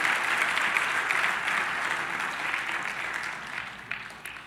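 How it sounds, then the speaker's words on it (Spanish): Church congregation applauding for the Lord during a Spanish-language sermon, a steady dense wash of many hands clapping that holds at an even level and thins slightly near the end. "démosle fuertes aplausos al Señor,"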